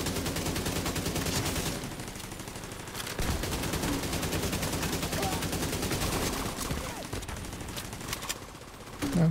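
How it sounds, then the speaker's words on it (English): Turret gunfire in a video game: dense, rapid bursts of automatic shots crackle almost nonstop, briefly pausing before resuming, with occasional faint talk underneath. "That turret did take a shot at me"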